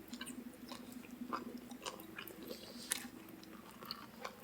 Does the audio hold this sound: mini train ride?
no